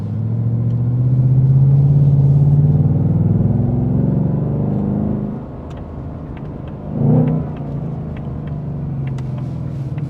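A 2025 Ford Mustang Dark Horse with the 5.0 V8 pulls hard with a deep rising rumble for several seconds, then drops to a lower cruise drone with a brief blip of revs midway, heard close from inside the car.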